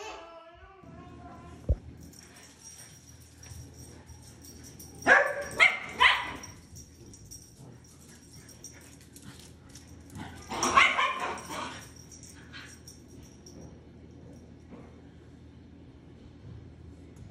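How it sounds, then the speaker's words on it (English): Indoor dogs barking and whimpering in two excited bursts, mid-distance and fairly loud, separated by quieter room tone with a faint steady hum. "Even the dogs get riled up."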